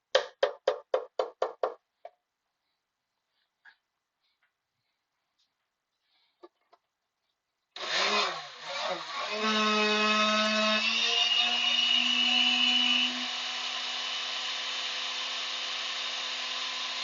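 A home blender that is not built for high heat blends hot ingredients, grinding with a loud steady whir that starts abruptly after a few sharp clucking knocks and then settles into a lower, even drone.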